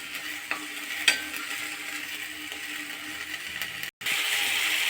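Tomatoes fry in a hot pan for a Kannada vaggarane dish while being stirred, giving a steady sizzle with occasional sharp scraping clicks and a brief dropout near the end.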